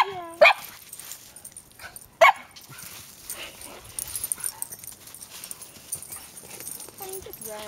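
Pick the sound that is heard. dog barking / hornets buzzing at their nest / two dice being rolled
dog barking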